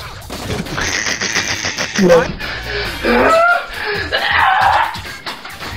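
Shotgun blasts and other gunfire from the war game Foxhole go off in bursts while players talk and laugh loudly over the shooting throughout.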